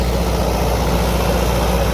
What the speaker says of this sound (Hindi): क्योंकि बिल्कुल फ्री चल रहा ट्रैक्टर